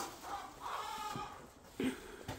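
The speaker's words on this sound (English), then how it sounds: "How are my chicky wickies this morning? Those are the meat hens from this year." Meat hens clucking in a coop during morning chores, soft scattered clucks and short calls, close by and fairly quiet.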